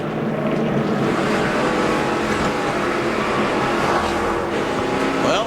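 Onboard Tony Raines' NASCAR race car, a loud continuous engine roar at high revs with road and wind noise, no talk.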